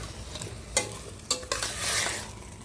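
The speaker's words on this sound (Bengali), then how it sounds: "ডাল আর সবজি এগুলো ভাজা ভাজা হতে হতে হলুদের কাঁচা গন্ধটা চলে যাবে।" Lentils and vegetables fry with turmeric in a pan, giving a soft steady sizzle broken by a few sharp stirring scrapes, close and fairly quiet, with no voices.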